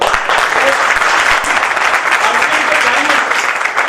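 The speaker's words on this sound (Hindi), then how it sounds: "एक बार जोरदार तालियां" A crowd at an RCM business gathering breaks into loud, enthusiastic clapping, a thick continuous wash of applause with some cheering voices mixed in.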